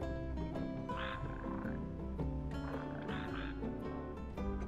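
Red frogs croak in a marshy slough in the Final Fantasy XV video game, a dense chorus of repeated throaty calls over steady ambient music, moderately loud and continuous.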